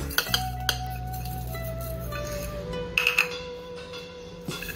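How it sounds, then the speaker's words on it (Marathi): Peanuts and jaggery dropped into a mixer jar, scattered clinks and rattles of pieces hitting the jar over a quiet kitchen background, with a low steady hum throughout. "मिक्सरचा जार घेतलेला आहे त्यामध्ये आता हे शेंगदाणे आणि थोडंसं गूळ घालायचं"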